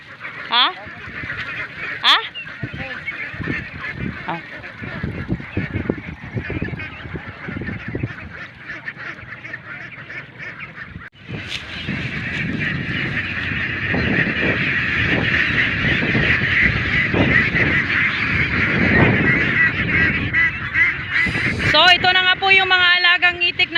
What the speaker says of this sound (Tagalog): So ito na po yung mga alagang itik.